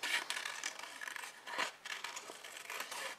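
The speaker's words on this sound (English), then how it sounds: "Then you cut them out." Scissors snip through fabric pieces for a DIY rainbow fairy craft, with a steady run of close, crisp cutting strokes and small rustles of cloth. The sound is quiet but clear, with no talking.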